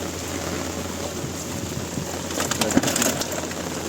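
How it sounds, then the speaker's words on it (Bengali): Steady wash of rain falling, with a pigeon cooing softly in the background toward the end. "এত বৃষ্টির মধ্যে আমাদের জীবন ভিজে ভিজে জাল চলছে"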